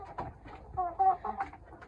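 Desi and tiger chickens kept together cluck in a short run of soft, choppy calls, fairly close and quiet.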